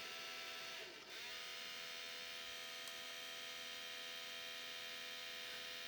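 A faulty, noisy Sony DVP-SR760H DVD player emits a faint, steady electrical hum that drones on unchanged with no other sounds.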